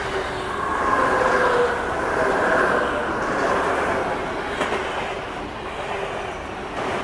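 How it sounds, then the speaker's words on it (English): An express train passes on a Dutch railway line, its steady rolling rumble and rail noise sustained throughout at close range, with a faint squeal of wheels and no talk over it. "That is an express train."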